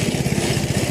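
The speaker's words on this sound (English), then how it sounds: "Thatching is the process of using a machine, like you see here. Kind of looks like a lawnmower." A lawn dethatching machine, built much like a lawnmower, runs close by with a steady, pulsing small-engine drone and a rapid rhythmic throb throughout.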